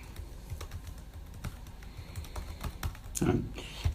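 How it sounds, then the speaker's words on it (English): Typing on a computer keyboard during an interview, with a steady run of quiet, uneven key clicks under light room noise, a slightly louder burst near the end. "I'm typing up as we talk here, just to make sure I capture everything."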